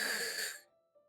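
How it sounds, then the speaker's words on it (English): A sharp hiss of breath drawn in through the teeth in the Doki Doki Literature Club game, one brief, breathy intake that fades out, faint and alone. "A sharp inhale, like someone is sucking the air through their teeth."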